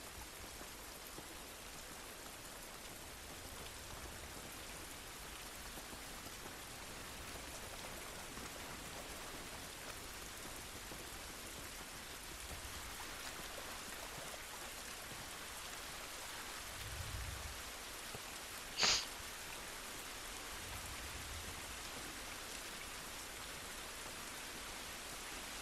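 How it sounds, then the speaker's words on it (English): Steady rain hisses evenly throughout an outdoor scene in the video game The Last of Us, a soft broadband wash with a faint low rumble and one brief sharp tick near the end. "This rain ain't gonna do us any good."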